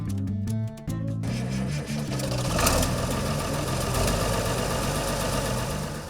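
A restored Farmall 1256 Turbo tractor engine runs with a steady, loud mechanical drone and rhythmic knocking pulse that continues throughout, close by and with no talking.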